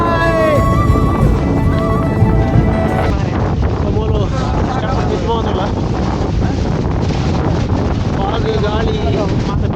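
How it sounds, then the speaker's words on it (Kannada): Strong wind batters the microphone on the hilltop at Mullayanagiri, a loud continuous roar and rumble throughout, with people talking over it. "ಗಾಳಿ ಮಾತ್ರ ಬೀಜುಂಟು."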